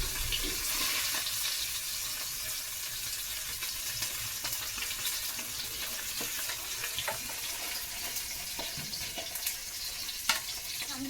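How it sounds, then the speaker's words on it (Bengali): Thankuni greens frying in a pan, a continuous close sizzle and crackle with occasional stirring scrapes and sharper pops. "থানকুনি শাকের জাল হচ্ছে"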